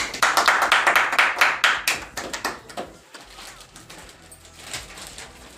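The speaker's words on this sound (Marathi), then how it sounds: "टाळ्या टाळ्या टाळ्या टाळ्या." An audience claps at a felicitation ceremony honouring a Maharashtra singer. Many hands give a rhythmic burst that is loud at first, then thins to scattered, softer claps that swell briefly again near the end.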